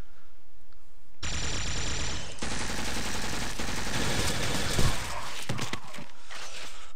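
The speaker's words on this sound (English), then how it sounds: "Burst fire." Burst-fire gunshots in the video game Fonline, a sudden dense roar of rapid automatic firing that runs for several seconds, loud and close, with a few sharp cracks near the end.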